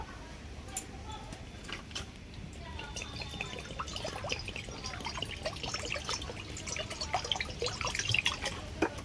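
Water poured into a kadai set on a lit clay stove, a continuous trickling splash with scattered drips and light clinks that grow slightly busier toward the end.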